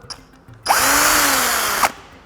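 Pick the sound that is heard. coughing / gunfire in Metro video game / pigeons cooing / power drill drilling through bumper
power drill drilling through bumper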